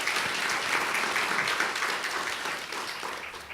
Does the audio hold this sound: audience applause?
yes